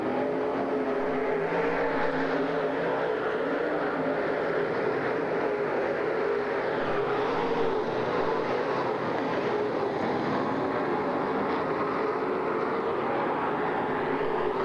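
Race cars roar around the Silver Spring Speedway oval after the green flag, a dense, steady engine drone filling the whole stretch without letup, loud and continuous with no voices over it.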